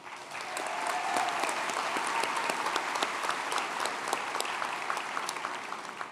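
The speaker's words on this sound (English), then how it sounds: "we'll give them each a round of applause individually" Steady applause from a large audience at a high school graduation ceremony, a dense, even wash of clapping that holds throughout at moderate loudness.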